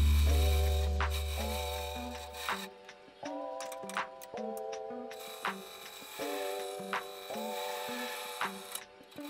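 Caps for a DSLR camera stabilizer being turned on a lathe, with a faint steady machine hum under light scraping and tapping of the tool on the workpiece, while music plays over it.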